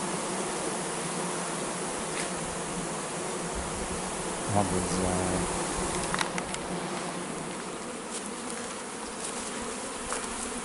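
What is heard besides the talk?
bees buzzing around a queen bee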